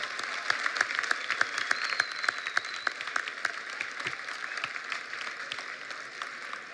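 Applause for students at a school education event: a crowd claps steadily and lively, with dense overlapping claps that gradually thin toward the end.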